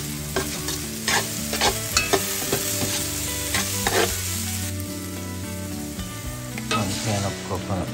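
Garlic and onion frying toward caramelization for kare kare, a steady loud sizzle with scraping stirs of a utensil against the pan, close and continuous.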